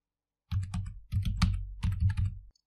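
Quick bursts of typing on a computer keyboard, crisp close key clicks in three short runs separated by brief pauses, with no talking.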